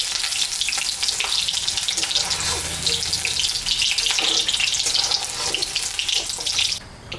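Dry chillies, cumin and bay leaves hit hot oil left from frying paneer, giving a loud, dense, continuous sizzle with fine crackling close up that cuts off abruptly at the end.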